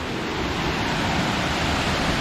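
Show Creek Falls on the Pinchot Trail gives a steady, dense rush of falling water, loud and close, with no talk.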